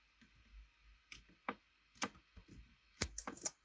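Typing on a computer keyboard while building a first HTML and CSS website, heard as sparse, uneven clicks and taps in a quiet room, close and faint, with short gaps between keystrokes and no talk.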